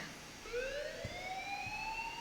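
An alarm in the video game Life is Strange wails with rising, sweeping electronic tones that climb steadily at a moderate level, with no talking.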